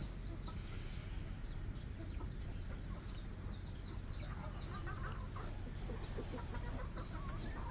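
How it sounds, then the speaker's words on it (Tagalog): A flock of dark mahogany hens clucks steadily inside a cage on a small farm, their calls overlapping in a constant busy chatter against a rough background hum. Occasional higher bird calls cut through. "Yan ang ating mga alagang manok dun sa kabilang kulungan."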